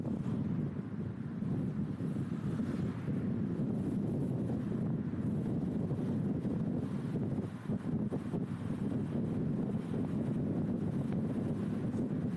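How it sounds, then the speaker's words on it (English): Strong wind roars and buffets continuously at a Utah campsite, a low, rumbling gusty noise pressing against the microphone with no other clear sounds. "It's really windy."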